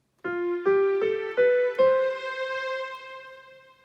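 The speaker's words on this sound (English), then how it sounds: "So you've got piano and strings here." Five notes struck one after another on a Casio CT-X5000 keyboard, each with a bright piano attack over a sustained string layer, ringing out and fading at the end.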